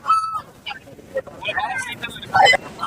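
Roosters and chickens squawk and crow in short bursts amid a busy Monday market bustle in Kunnathur, Tiruppur district, with people talking nearby.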